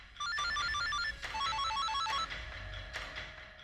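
A telephone rings with a bright electronic melodic tone, repeating in short bursts at moderate volume, with no talk.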